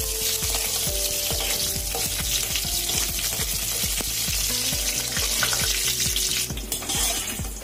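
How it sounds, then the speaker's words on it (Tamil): Raisins and cashews fry in hot ghee for homemade carrot halwa, a loud, close crackling sizzle running throughout with steady popping bursts and no voices. "அதில் முந்திரி, திராட்சையை முதல்ல போட்டு எடுத்துருங்க."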